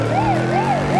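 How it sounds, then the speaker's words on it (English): Wailing police-style car siren from a modded 841-horsepower Oldsmobile sedan in the BeamNG driving game, rising and falling in steady sweeps roughly every 0.4 seconds, loud and continuous over a low engine drone. "Sirens on."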